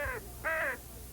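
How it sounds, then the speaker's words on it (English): Two loud, harsh crow caws ring out close by, one short and one longer, separated by a brief pause with no other sound. "When crows get together, it's a murder of crows."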